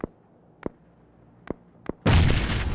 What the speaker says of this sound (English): Who's throwing a grenade?